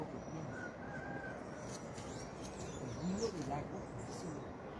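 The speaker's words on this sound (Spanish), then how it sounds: "el sonido del agua del río Meléndez y también el sonido de las aves que ya están buscando las diurnas para descansar" Birds calling at dusk beside the Meléndez river, with faint scattered chirps and caws over a steady wash of flowing water.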